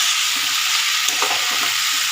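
Small fish frying in a pan: a loud, steady, hissing sizzle of hot oil running unbroken throughout, close up, with faint stirring movement underneath and no voices.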